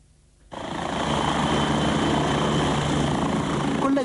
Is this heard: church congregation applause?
no